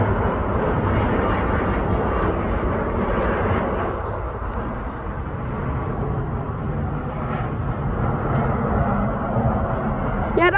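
Alaska Airlines Embraer E-jet airliner on landing approach, a broad steady engine roar heard from a distance amid bus interior rumble, with people talking faintly underneath.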